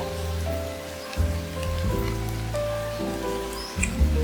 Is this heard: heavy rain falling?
yes